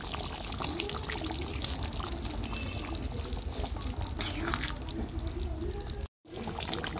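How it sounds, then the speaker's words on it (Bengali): Hot water is poured into a pot of thin chicken curry, a steady close splashing pour running unbroken for several seconds. "জলটা গরম করে রেখেছিলাম সেই জলটা। আর অল্প করে দেবো, আর একটু জল লাগবে।"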